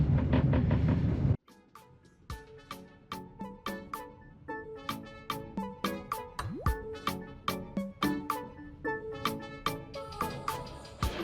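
A slow passenger train rolls along the rails in Ukraine, its wheels clacking in a steady, evenly spaced rhythm, with faint squeals and creaks between beats.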